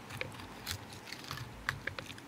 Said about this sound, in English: I'm going through the spine.